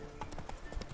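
Roach, the horse in Witcher 3, gallops with quick rhythmic hoof clip-clops in a rapid run, with faint talk in the background.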